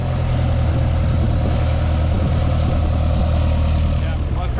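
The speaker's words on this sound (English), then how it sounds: "see if we can hear the DC-3 engines running." Douglas DC-3 aircraft engines run steadily, a loud continuous low-pitched drone with a constant rumble, heard up close without pauses.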